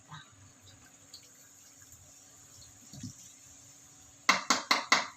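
Leftover Sprite soda is poured into a pineapple-juice drink being prepared for a New Year party, a faint steady trickle ending in several sharp clinks.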